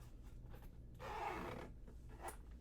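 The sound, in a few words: zipper on case pocket being zipped around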